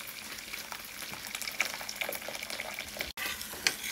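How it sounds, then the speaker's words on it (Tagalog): A pot of water, salted with three spoonfuls of non-iodized sea salt, boils with a steady, dense bubbling hiss that continues evenly throughout, briefly cutting out near the end. "nagpakulo ako ng tubig"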